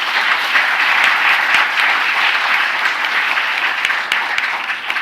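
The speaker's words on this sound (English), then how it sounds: "And let's have another round of applause for the next generation." An awards ceremony audience applauds loudly and steadily, a dense wash of close clapping that holds for several seconds before easing slightly at the end.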